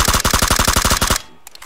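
Rapid automatic rifle fire in the video game PUBG, roughly a dozen evenly spaced shots in a quick burst lasting just over a second, then a near-silent pause with faint clicks.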